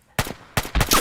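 Model 1894 rifle shots in the video game Rising World: a quick series of sharp, close cracks, one after another, with no talking.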